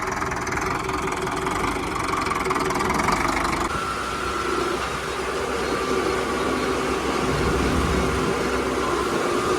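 A Sonalika tractor engine idles steadily at close range, a continuous rumbling with a low throbbing tone and no breaks.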